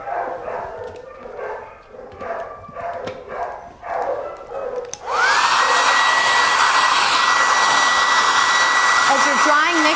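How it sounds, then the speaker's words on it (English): A hand-held hair dryer blows over a Bichon Frise's coat during grooming, switching on midway with a loud, steady, close-up whooshing roar that stays constant; before it starts, short rhythmic yips and muffled sounds are heard. "As you're drying, make sure you don't hold the dryer in the same spot because it gets really hot."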